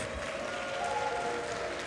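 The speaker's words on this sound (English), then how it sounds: "can we get another round of applause for all of the gentlemen on stage?" A steady wash of clapping from a live concert crowd at a ukulele performance, sustained at an even level throughout without any voices standing out.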